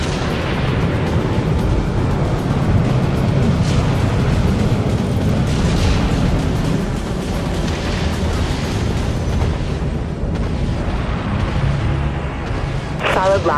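Heavy ship-to-ship combat in Dreadnought, with a missile launch amid continuous loud rumbling booms and blasts, thick and sustained, and a voice speaking over the din.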